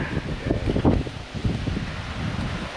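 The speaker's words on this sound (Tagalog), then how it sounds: "Kita nyo guys yung ihip ng hangin ng amihan." Northeast monsoon wind gusts buffet the microphone in low rumbling bursts at a fishpond in Rizal, a steady rushing noise outdoors with no talking.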